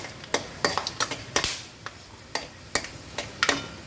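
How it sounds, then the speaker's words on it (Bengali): Whole spices such as fenugreek, cardamom, cloves, cinnamon, bay leaf and dried red chili tempering in hot oil over low heat, heard as a quiet crackle broken by a string of sharp clinks and scrapes from a utensil against the pan. "আঁচটা কমিয়ে ফোড়নটা একটু ভালো করে ভেজে নিতে হবে।"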